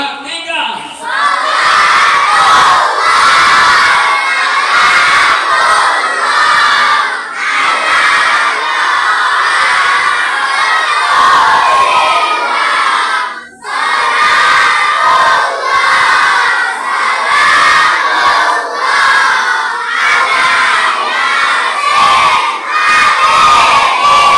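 A large group of schoolchildren at a school religious event shouts loudly and continuously in unison for a voice contest, a dense roaring crowd cheer with one brief dip midway.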